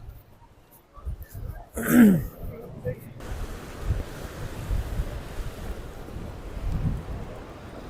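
Sea breeze buffeting the microphone on the beach at Cox's Bazar, a loud roaring rush with surf-like washes and gusts; a brief throat-clear and faint voices break in near the start.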